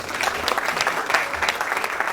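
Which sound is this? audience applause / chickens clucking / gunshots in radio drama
audience applause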